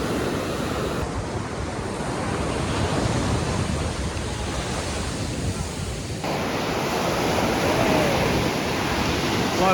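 Ocean waves break steadily on a steep beach along the Carolina coast, a loud continuous roar of surf with wind rushing across the microphone and no voices.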